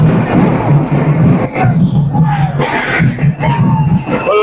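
Large outdoor crowd cheering and shouting at an election victory celebration, loud and continuous with whoops and raised voices rising above the din.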